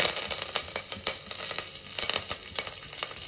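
Curry leaves sizzling in about two spoons of hot oil in a pot for a Kundapura chicken curry, a steady bright crackle with scattered sharp pops throughout.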